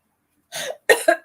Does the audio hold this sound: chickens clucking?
no